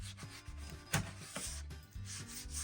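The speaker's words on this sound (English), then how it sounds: "So go ahead and just start rubbing. You want to use, if you have one like this from Walthers, you want to use the abrasive side" Walthers abrasive cleaning pad rubbed back and forth along model railroad track rails, a steady close scratchy scrubbing with rhythmic strokes.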